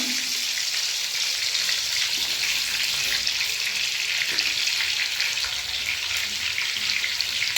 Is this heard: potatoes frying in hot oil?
yes